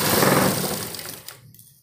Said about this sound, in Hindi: ये डबल सिलाई फैन हम इसके ऊपर कर देंगे इस तरह, ताकि हमारी सिलाई अच्छे से पक्की हो जाए।